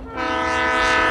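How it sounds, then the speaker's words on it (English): A slow passenger train sounds a loud, sustained horn close by, the steady tone holding over the rumble of the moving train. "we've been on the slow train."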